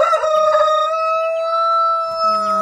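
A rooster crows once, a long strained call that is close and loud, slightly thin and uneven like a young bird.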